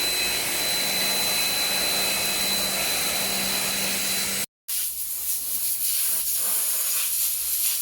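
Compressed air blasting dust out of the AC condenser of a Toyota Revo pickup with about 135,000 km. A loud, steady hiss breaks off briefly, then resumes as a quieter, rougher rush.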